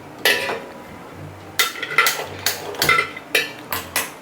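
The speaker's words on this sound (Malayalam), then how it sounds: "ഉരുളി നമുക്ക് അടുപ്പത്ത് വയ്ക്കാം" A large uruli pot is set onto a kitchen stove while cooking crab roast, giving a few close, sharp metallic clanks and scrapes spread across several seconds with no talking.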